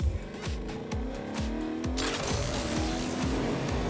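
Video game car driving with an arcade, 80s-style cartoon feel: a steady engine drone with repeated rising rev sweeps as it shifts up through gears, loud and close, with tire noise and no talking.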